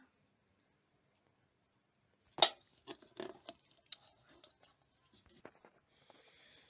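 A knife cuts through homemade suluguni cheese in several short, close scraping and tapping strokes, a sharp first stroke followed by softer uneven cuts against a quiet background.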